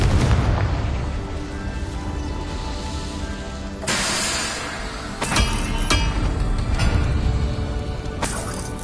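A Confringo explosion spell cast in Hogwarts Legacy, with booming blasts and bursts layered over a dense, loud game soundscape, several sharp explosive hits punctuating sustained rumble.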